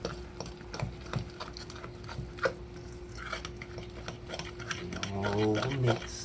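Cornbread batter being stirred in a bowl: a steady run of soft, irregular scraping and tapping strokes close by. Voices speak briefly toward the end.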